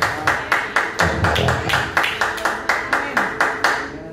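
Church congregation clapping in unison, a regular, steady beat of about three claps per second carried by many hands, with a voice speaking briefly over the rhythm.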